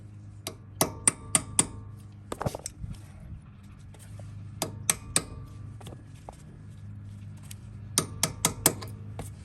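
A hammer strikes a chisel wedged between the hub cap and hub flange of a Toyota 100 Series Land Cruiser, giving sharp metallic taps in quick clusters separated by pauses, close over a low steady hum.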